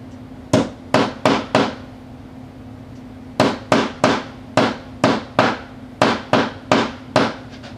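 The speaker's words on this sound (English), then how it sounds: "I have this craft hammer here, and I'm just going to hammer that down really good and solid" A craft hammer pounds firmly on a wood-topped sewing machine in quick sets of four, each hard strike ringing sharply, with steady repetition close by over a low hum.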